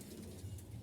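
Pigeons cooing in a pigeon house holding dozens of birds, a soft low continuous burbling that is faint and steady throughout, with no voices.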